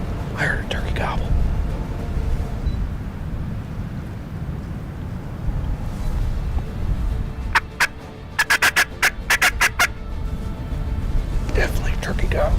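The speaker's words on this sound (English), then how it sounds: "Definitely a turkey gobble." Wind roars steadily with soft whispering, then a turkey gobbles in a rapid burst of rattling notes, followed by more quiet voices.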